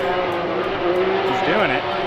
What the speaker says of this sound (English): I don't know if they changed the exhaust, but it sounds rad.